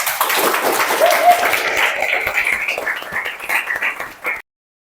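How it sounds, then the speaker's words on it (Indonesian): Vocational high school classroom applauding a student group's presentation: many hands clapping close and fairly loud, a few cheering voices mixed in, tapering off before stopping abruptly. "Tepuk tangan untuk kelompok 1."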